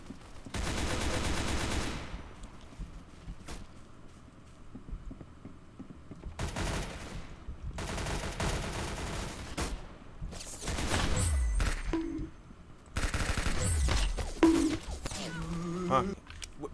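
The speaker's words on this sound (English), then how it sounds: "There's no way the baseball gun is an automatic." An automatic baseball gun in a shooting video game fires in several loud bursts of rapid shots, each a couple of seconds long and separated by short gaps.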